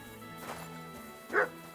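A dog in the video game Kingdom Come: Deliverance II gives two short barks, a softer one first and a louder, sharper one near the end, over quiet game music.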